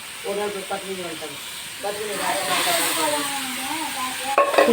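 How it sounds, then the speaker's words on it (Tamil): Goat intestines and ground masala sizzle and hiss steadily in a hot pan while being stirred, with a voice rising over the frying throughout. "நல்லா வதக்கிக்கலாம்."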